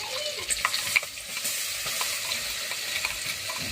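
Crushed garlic and a ground paste of ginger, chili, coriander, garlic, onion, coconut and raw mango sizzle in a pan, a steady close frying hiss with soft scrapes of stirring.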